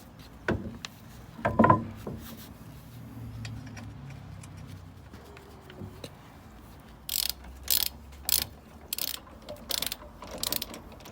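A ratchet wrench tightens wheel nuts on a rear suspension refresh job, with a few faint clunks early on, then bursts of rapid clicking in short repeated strokes near the end.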